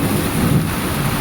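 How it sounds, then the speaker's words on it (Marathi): Heavy cyclone rain pours down in a continuous loud roar, with a low thunder rumble running underneath throughout, close and steady. "अरे बेकार पाऊस रे."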